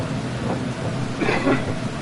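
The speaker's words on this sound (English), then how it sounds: "Look at how heavy it's raining" Heavy rain in the rally racing game Dirt Rally 2.0, Australia stage: a dense, loud, steady wash of rain with a low rumbling swell, no voices.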